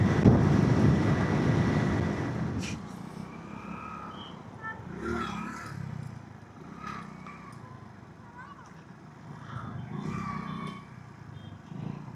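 Strong wind roars and buffets against a motorcycle rider's helmet on a ride toward a hill station, loudest at the start and then gusting unevenly, while someone talks over it.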